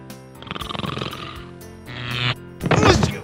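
Loud, exaggerated snoring close up, a rattling inhale followed by harsher snorting breaths, likely a voice imitating snores for comic effect.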